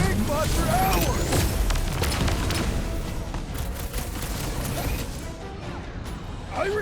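Rapid gunfire aimed at a big robot in the Guardians of the Galaxy video game, a continuous loud barrage with crashes and mechanical clatter, spoken voices mixed in.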